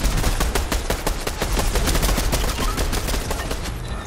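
Rapid bursts of automatic gunfire in a chaotic shooter video game battle, loud and nearly continuous, with overlapping shots filling the whole stretch and no clear pauses.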